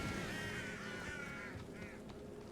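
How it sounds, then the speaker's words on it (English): Loud birds in the video game Hogwarts Legacy, with raucous quacking, honking calls that rise in a burst and then trail off, fairly quiet overall with no talk. "Some loud birds."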